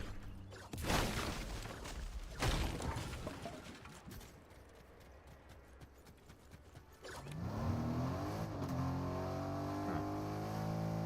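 A G-Wagon in the Fortnite video game drives along with a steady engine drone and rising revs, preceded by a few sharp thumps and rough handling noise, continuous and fairly close.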